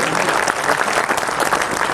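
Dense, steady applause from a crowd fills a hall at a Hindi poetry gathering, many hands clapping at once without a break.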